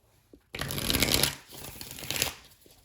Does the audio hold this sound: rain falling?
no